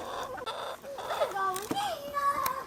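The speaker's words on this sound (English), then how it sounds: "See that Australorp digging through there and getting them seeds?" Australorp and barred rock hens cluck softly while pecking at squash seeds, with short murmuring calls close by and a voice faintly mixed in.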